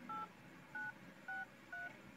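Four short, evenly spaced keypad beeps from an Infinix Note 12 Pro phone while dialing 7 on the emergency screen, quiet and clean with no talking.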